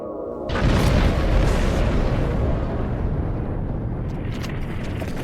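A protomatter detonation beside a Borg cube in Star Trek Online erupts as a loud, sustained explosive boom that rumbles and slowly fades into a roaring wash with no talk.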